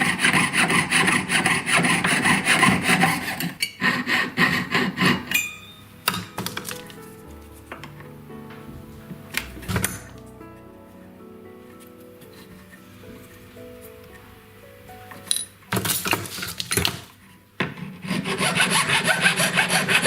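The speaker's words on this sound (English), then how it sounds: "Just shorten the shoulders first and make sure you cut at an angle." A jeweller's saw shortens the shoulders of a garnet ring with steady, rapid rasping strokes, pausing for a quieter stretch of light scraping before the sawing resumes loudly.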